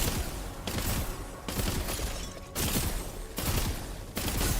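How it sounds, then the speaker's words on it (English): Rapid bursts of automatic gunfire from a gun in the game Wayfinder, loud and close, coming in several fast volleys separated by short pauses, with no talk. "The gun fires way faster than it used to."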